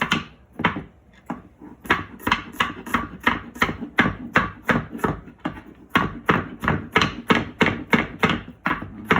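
A knife minces a peeled garlic clove on a cutting board in rapid, rhythmic chops, close and loud, with one brief pause partway through.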